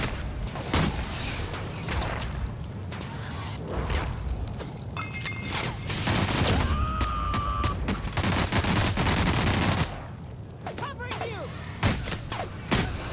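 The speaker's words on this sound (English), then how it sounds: "That machine gun is her special ability as well as her actual weapon" Companion's machine gun fire in The Outer Worlds (Spacer's Choice Edition), dense bursts of shots mixed with thuds and mechanical clatter, loud and continuous through most of the stretch, with a voice talking over it.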